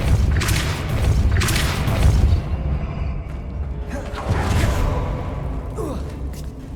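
A Depulso spell cast in Hogwarts Legacy, two heavy whooshing booms with low rumbling thuds a couple of seconds apart, loud and close, followed by fainter magical swishes.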